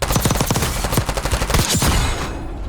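Rapid, loud gunfire rattles through a Warzone match in a dense, continuous fusillade of overlapping shots that fills the whole moment before cutting off.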